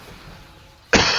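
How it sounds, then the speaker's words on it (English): A single sharp cough bursts out close and loud after a near-silent stretch, then trails off into a rough throaty tail. "Sorry for the cough"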